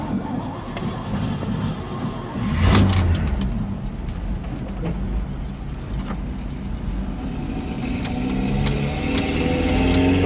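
A fuel-injected 1957 Chevrolet Bel Air with a gas problem running on the road, heard from inside as a steady low engine rumble under road noise, with a sharp clunk early on.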